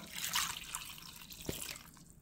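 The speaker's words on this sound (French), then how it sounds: "Et là, on va mettre un peu d'eau pour faire cuire tout ça." Water is poured into a saucepan holding fish, garlic and other ingredients, a soft, close splashing trickle that stays quiet and fades out after a couple of seconds.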